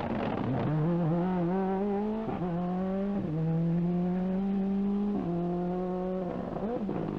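Rally car at the 1998 Boucles de Spa driven hard through narrow stage sections, engine loud and close, repeatedly revving up through the gears with sharp drops between shifts and brief lifts, tyres hissing beneath.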